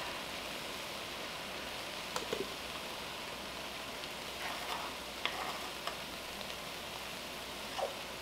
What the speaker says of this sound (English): while those bell peppers and onions are sauteing and getting nice and caramelized